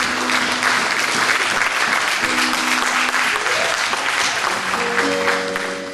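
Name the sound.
congregation applauding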